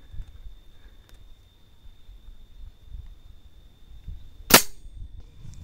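A Leviathan PS R2 air rifle in 6.35 calibre fires a single sharp, loud crack amid quiet outdoor background noise, with nothing else prominent before or after the shot.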